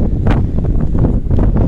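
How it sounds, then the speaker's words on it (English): Strong wind at a cemetery buffets the microphone in a constant loud roar, gusting unevenly throughout. "Sorry about the wind, guys. That wind is crazy."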